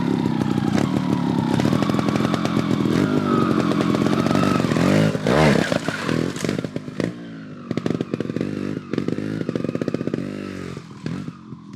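A trials motorcycle is ridden through a technical section, its engine buzzing loud and close throughout with constant revving that rises and falls as the rider works the throttle.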